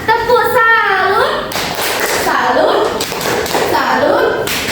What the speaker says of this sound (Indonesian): kita beri tepuk salut buat kelompok yang maju ke depan ya